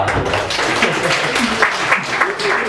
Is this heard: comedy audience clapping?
yes